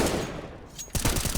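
Rapid gunfire in a Counter-Strike match on the Cobblestone map, a short burst of close, loud shots rattling out after a brief lull.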